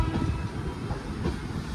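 The 12713 Satavahana SF Express running on a deep curve near Sitafalmandi cabin, a loud continuous rumbling roar of the moving train with no voices.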